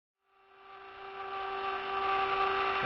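A rotary tool spinning a grinding bit during a trunk repair gives a steady whine with a strong fixed tone, rising after a short silence and holding loud and close to the end.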